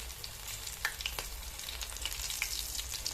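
Batter-dipped green chillies for mirchi bajji sizzle quietly in hot oil, with a soft, steady bubbling punctuated by a few sharper crackles and pops, heard close and alone.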